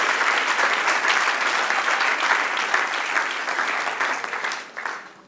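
Church congregation applauding during a sermon, a dense sustained round of clapping from many hands that holds steady, then thins and fades near the end.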